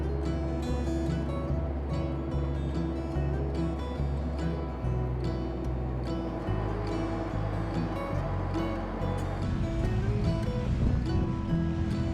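Waves slap sideways against a sea-going ship on an inland waterway while it approaches a lock in the wind. A continuous rushing wash carries on for several seconds with rumbling underneath, and nobody speaks.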